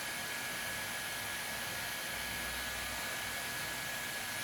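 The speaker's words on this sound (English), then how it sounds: "Heat gun's getting up the temperature." A heat gun warming up gives off a steady, even blowing hiss with a constant fan drone, moderately loud and unchanging throughout.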